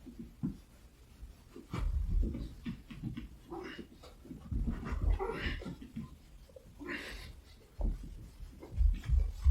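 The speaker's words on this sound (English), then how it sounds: "I'm going to erase everything." Chalk or whiteboard eraser rubbing across a lecture-hall board in a counting lecture, with repeated scrubbing strokes and bumps in an irregular rhythm, moderately loud and close, with no talking.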